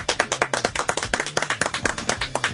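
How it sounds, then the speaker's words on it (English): A small group clapping in a radio studio for Howard Stern, close and distinct, each clap sharp and separate in a quick uneven rhythm. "give him a round of applause"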